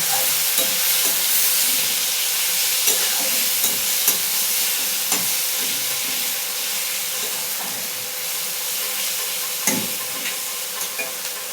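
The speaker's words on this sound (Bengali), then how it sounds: "এবার হলুদ দিয়ে দিলাম, এবার পেঁয়াজটাকে ভালো করে ভেজে নেব।" Onion frying with turmeric in a pan, a steady loud sizzle with repeated scrapes and taps of a stirring spoon throughout, no voices.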